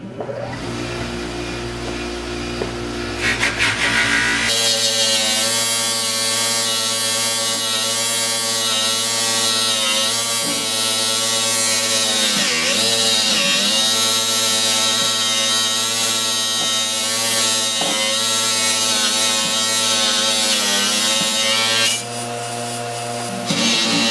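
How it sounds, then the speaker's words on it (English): A buffing wheel whirs continuously against a vintage copper and brass fire extinguisher, a loud steady motorized hum with rubbing and shifting friction tones, starting after a few seconds of a different machine drone and cutting off near the end. "let's get started on buffing this thing up"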